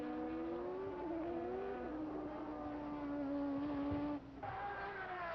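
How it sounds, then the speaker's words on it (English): A Formula One Ferrari race car from the 1983 season, number 27, comes into the pit area, its engine droning steadily and shifting pitch as it slows, close and fairly loud, with no talk. "into the pit area comes Patrick Tambay in number 27"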